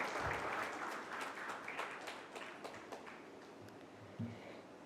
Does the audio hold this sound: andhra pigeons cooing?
no